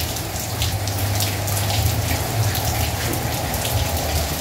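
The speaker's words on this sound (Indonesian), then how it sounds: "Hujan itu nanti itu asli" Steady rain falling and pattering on a surface, a dense continuous wash of drops with a low rumble underneath, no voices.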